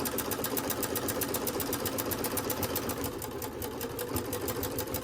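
A sewing machine stitches a bath mitt, its needle pounding in a fast, even mechanical rhythm with a low motor hum, close and steady throughout without speech.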